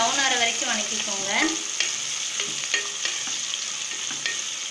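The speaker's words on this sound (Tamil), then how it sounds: "வெங்காயம் வந்து ப்ரௌன் ஆகிற வரைக்கும் வணக்கிக்கோங்க." Sliced onions frying and being stirred in a pan for chicken biryani, a steady broadband sizzle with a few scraping spoon strokes and clinks, close and continuous with no talking.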